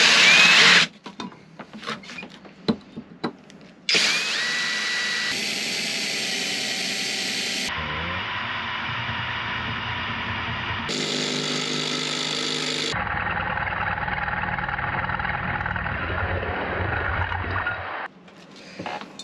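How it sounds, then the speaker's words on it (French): A power drill bores holes in metal during a DIY build inside a camper van: several loud, sustained whining runs, each cut off abruptly and replaced by the next, with no talking. "Allez, maintenant on n'a plus qu'à percer."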